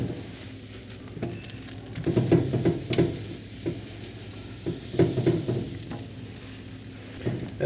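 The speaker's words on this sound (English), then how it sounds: "Lay down a nice thick patch of butter. Low heat. Oh, it smells so good already, Nate." Butter melts on a griddle set to low heat for Korean street toast, giving a steady soft sizzle with recurring bursts of louder crackle and scraping, close by and without talk.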